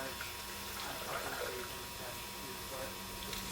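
Water poured into two containers, one holding DriDown treated down and one holding untreated down, each filled about halfway; a faint, steady trickle and splash continues quietly through the clip with no talk.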